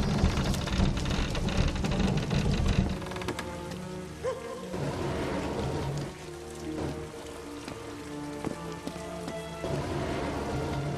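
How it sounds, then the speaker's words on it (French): Steady heavy rain with a thunderstorm in a Doctor Who video game: a dense, hissing downpour with rumbling thunder, loud and close throughout, with no voices. "Cette tempête est vraiment mauvaise."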